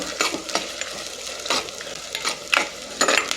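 Onions sizzling in a pan with a spatula stirring and scraping in irregular strokes, close by.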